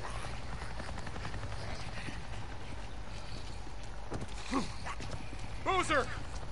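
Helicopter flying overhead in the Days Gone video game, heard as a continuous low rotor drone, with brief chirping tones rising over it near the end.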